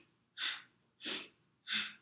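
Three sharp, forceful breaths through the nose for Kundalini yoga breathing, evenly paced about two-thirds of a second apart, close and clear against silence, with no talking.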